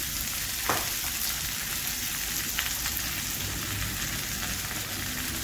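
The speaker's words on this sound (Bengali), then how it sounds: "এখানে দেখো পেঁয়াজটাও ভাজা ভাজা হয়ে গেছে" Sliced onion frying in a pan, giving a dense, steady sizzle close up with faint stirring scrapes and small crackles throughout.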